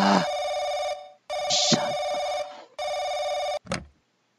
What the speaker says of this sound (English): Shut the phone up.